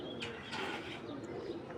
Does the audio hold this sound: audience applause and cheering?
no